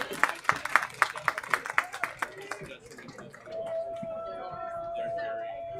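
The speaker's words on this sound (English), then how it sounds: "Let's give her a big round of applause." Crowd at a boys high school lacrosse game claps in a crisp, rhythmic burst of individual claps, then the clapping fades under a longer steady tone and light crowd murmur.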